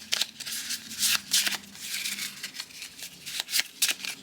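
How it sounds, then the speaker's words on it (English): A deck of cards is shuffled nearby, a run of quick papery riffles and flutters in uneven bursts over a few seconds with no talking. "I'm gonna shuffle my cards."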